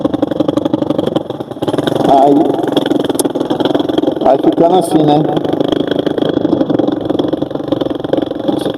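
A Chinese motorcycle fitted with a cheap aftermarket exhaust runs loud and raspy nearby on a city street in Porto Seguro, its engine revving and burbling steadily beneath someone talking.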